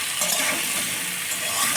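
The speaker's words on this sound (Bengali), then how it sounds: "একটু ভাজা ভাজা হয়ে আসবে।" Vegetables with plantain, salt and turmeric sizzle in a pan for a Bengali mixed vegetable dish, a steady close-up frying hiss with faint stirring, and no talking.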